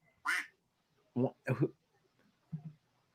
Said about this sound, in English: my phone quacks when I get an update